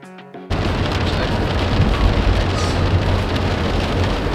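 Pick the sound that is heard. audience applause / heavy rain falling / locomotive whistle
heavy rain falling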